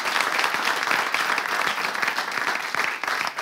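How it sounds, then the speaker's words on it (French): A live audience at a French entertainment event gives sustained, dense applause, a busy wash of many hands clapping at close range with a slight dip in energy near the end. "on va déjà applaudir, s'il vous plaît"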